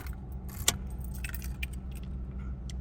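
Car keys jangle close by inside a running 2010 Crown Victoria Police Interceptor, one sharp metallic rattle standing out above the steady low idle of the engine.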